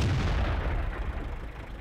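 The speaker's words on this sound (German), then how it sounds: "Und da schieße ich den jetzt schön da durch die Fenster ab." A single heavy tank cannon shot from the E-25 tank destroyer in World of Tanks booms with a dense blast that decays over about two seconds, loud and close, with no talk over it.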